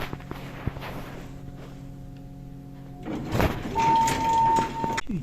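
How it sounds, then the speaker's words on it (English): Elevator doors in a converted New York skyscraper slide open slowly with a rumbling mechanical rush, and a short steady tone sounds as they move. "Gotta wait for the doors to open."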